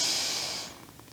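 A loud, deep breath rushes out close by during couple yoga, a single long airy exhale that fades after less than a second.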